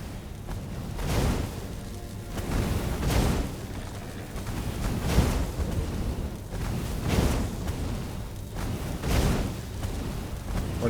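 Energy cannons firing in the video game Stories: The Path of Destinies, a run of about five heavy booming blasts spaced roughly two seconds apart over a steady rumbling game soundscape.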